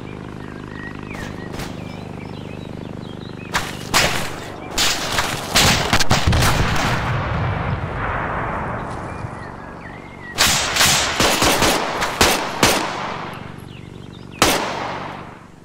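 Artillery fire in the ARMA 3 military video game: a series of loud booming blasts and sharp cracks in irregular clusters over a rumbling battlefield background, with no talking.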